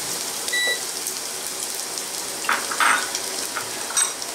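Garlic frying in sesame oil in a pan: soft continuous sizzle close by, with a few brighter crackles and a small clink or two, no talk.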